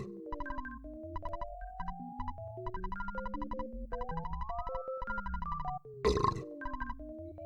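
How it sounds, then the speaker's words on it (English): A game-music loop from Earthbound plays steadily, then a short, loud human belch cuts in near the end, close and with no talking. "That's an actual, factual human being belching."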